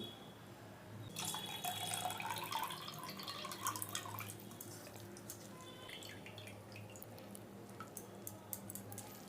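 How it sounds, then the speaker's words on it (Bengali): Soaking water drained off soaked chow mein noodles into a sink: a burst of pouring, splashing water lasting a few seconds, then scattered drips and soft squishy wet sounds, close and fairly quiet. "চাউমিনটা ভেজানো হয়ে গেছে, আমি এবারে জলটা ফেলে দিচ্ছি।"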